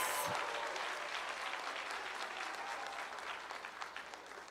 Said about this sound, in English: can we give one more round of applause for our class of 2026?